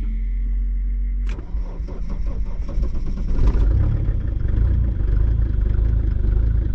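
A Mercedes OM605 diesel engine cranks after preheating and catches, settling into a loud, rough, clattering idle close by.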